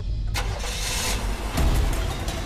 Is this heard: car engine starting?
yes